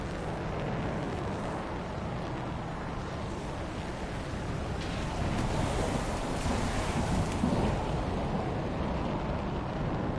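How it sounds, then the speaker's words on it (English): A waterfall in the video game Anthem gives off a steady, broad rushing roar of falling water that stays loud and continuous throughout, swelling slightly toward the end, with no talking. "They really did get the waterfalls right."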